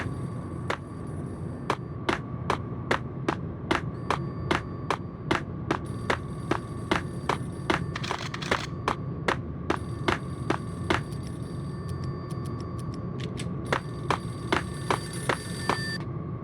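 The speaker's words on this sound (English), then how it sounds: "payphone started to ring." Payphone in the Max Payne video game ringing repeatedly with a steady rhythm of sharp bell bursts, loud and close, with no talk.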